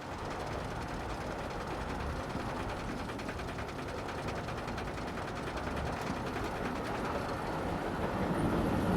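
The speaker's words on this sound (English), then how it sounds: "And now the train is getting back to the station" A theme-park train ride in a video game rolls along steadily, with a continuous close rumble and rapid clattering of wheels and mechanism throughout, building slightly louder toward the end.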